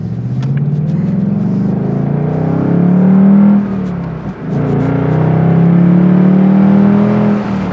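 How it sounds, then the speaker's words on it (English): A 2025 Ford Mustang GT Convertible's V8 exhaust drones loud and close while driving, with a steady low rumble that swells through two long pulls, dips briefly around the middle, then rises again. "The exhaust sounds good."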